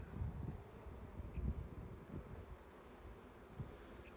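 Honey bees buzzing in a Langstroth hive during an inspection, a faint, low, continuous drone with small swells, heard close but quietly with no talk.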